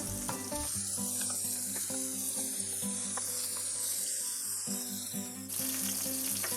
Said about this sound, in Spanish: Ahora vamos a poner a cocer nuestro salmón 2 minutitos de cada lado.